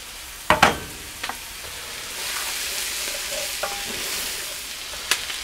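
Onions and root vegetables frying in a Dutch oven, giving a steady soft sizzle with a few sharp clinks and scrapes of stirring near the start and end; no voices.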